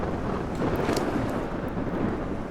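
A thunderstorm rages in the video game Ark Survival Ascended, a loud continuous roar of wind and rumbling thunder with a brighter crack near the middle, no voices over it.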